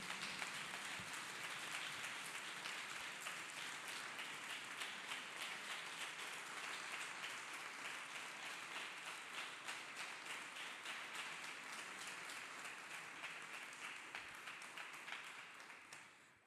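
A church congregation claps hands together in a long, steady patter of many hands, moderately distant and fairly soft, tapering off at the end.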